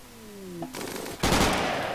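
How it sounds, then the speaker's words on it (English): Gunfire in RimWorld aimed at a beaver: a short burst of rapid shots, then a louder second burst, close and sharp with no talk. "Shoot that beaver."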